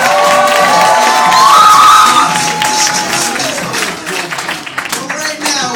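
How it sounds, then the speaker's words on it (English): A live hip-hop crowd cheers, shouts and claps for a performer at a 100-bars rap event. The noisy, dense roar is loudest early on, then eases into scattered clapping and voices. "Clap it up for Maya, yo."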